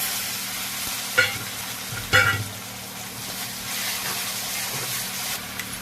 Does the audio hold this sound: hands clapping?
no